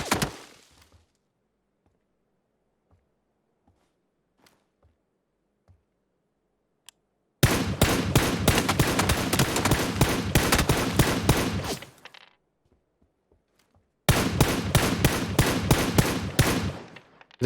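Two long bursts of rapid VSS rifle fire in PUBG, a steady stream of sharp suppressed shots running several seconds each, separated by silence and preceded by a few faint isolated ticks.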